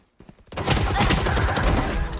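Dense, sustained bursts of gunfire from a Valorant match rattle on continuously, loud and close, after a brief quiet start, with no talking over them.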